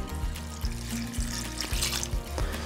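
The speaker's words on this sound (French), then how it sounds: "on met de l'eau dans notre macédoine" Water poured into a bowl of cut fruit salad, a close, steady splashing and gurgling stream with small bubbly knocks as liquid fills around the fruit.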